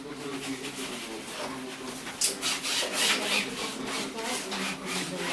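Pencil hatching strokes scratching across paper at a drawing lesson, a steady run of soft rasping rubs with a few sharper strokes, close and fairly quiet, with faint background voices.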